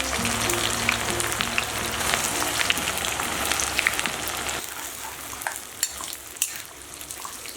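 Onions frying for prawn biryani in a pan on full gas, a steady close sizzle with stirring scrapes and light crackling pops throughout, no talking.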